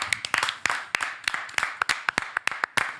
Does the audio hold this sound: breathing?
no